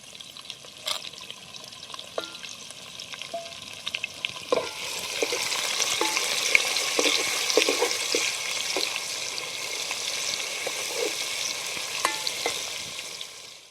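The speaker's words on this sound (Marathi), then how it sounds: "हिंग टाकून घेते आता कांदा टाकते" Onion dropped into hot oil with asafoetida for a village-style chicken curry: a few light clinks at first, then a sudden, sustained loud sizzle with occasional stirring scrapes, close by.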